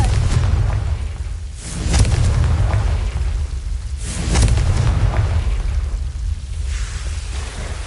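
Confringo fire spell explosions in Hogwarts Legacy, with two heavy booming blasts about two seconds apart over a continuous rumbling roar of flames and magic.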